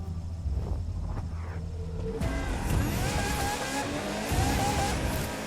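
Racing car engine in The Crew 2 drones steadily and loud, a low hum that swells into rising, revving whine with broadband road roar from about two seconds on, continuous throughout with no talk.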